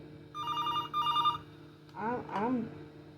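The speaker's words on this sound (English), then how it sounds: "My phone." A telephone rings twice in short bursts with a steady, near electronic tone, followed by a person talking.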